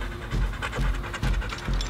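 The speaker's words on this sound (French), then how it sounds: "L'exercice stimule Enzo, un jeune malinois de 3 ans, et renforce son lien avec la conductrice." A three-year-old Belgian Malinois working dog panting heavily and rapidly up close, with rhythmic breaths continuing throughout.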